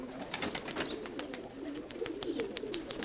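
Pigeons coo in damp, foggy drizzle outdoors, a steady low murmuring of several birds close by, with a few sharper chirps and faint wing or rustle noises scattered through.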